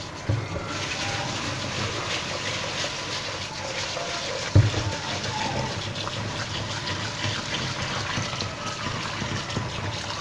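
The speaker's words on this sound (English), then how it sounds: "now I'm gonna wash it and we have to wash this sushi rice till it becomes the very clean water" Sushi rice is washed in water as a steady, soft wash of running and sloshing water continues throughout, with one small knock near the middle and no talking.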